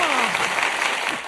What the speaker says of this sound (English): Give this man applause for that one.